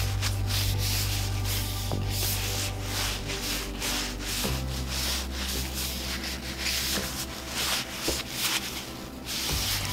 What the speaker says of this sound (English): I'm just using a little bit of tung oil to protect it from the elements.